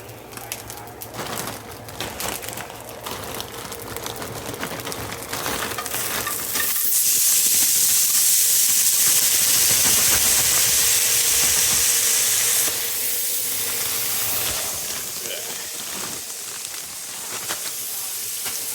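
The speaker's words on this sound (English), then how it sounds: "we use them to cool and deglaze the pan" Pre-cooked vegetables hit a pan of hot chili oil with a loud burst of sizzling and steaming that swells into a strong, steady hiss, then eases back to a lower crackle.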